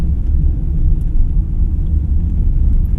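A 2025 BYD eMAX 7 electric MPV cruising in sport mode, heard from inside the cabin as a steady, loud, low road-and-tyre rumble with no distinct engine note.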